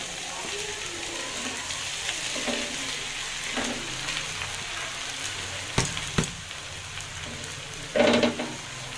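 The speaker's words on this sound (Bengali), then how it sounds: "এখন আমি চালগুলো ঢেলে দিব।" Rice is poured into a hot pot, sizzling steadily at a moderate level, with stirring scrapes and a few sharp clanks of a utensil against the metal pot, close by.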